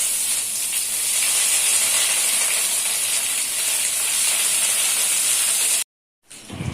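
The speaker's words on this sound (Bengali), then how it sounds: "এবার দিয়ে দিচ্ছি আদা রসুন বাটা।" Ginger-garlic paste hits hot oil left over from frying fish for a Bengali fish curry, giving a loud, steady hiss of sizzling for about six seconds. It cuts off abruptly, then resumes briefly.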